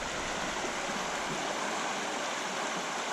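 A river runs in a steady, continuous broadband rush, close and fairly loud, with no breaks or other sounds over it.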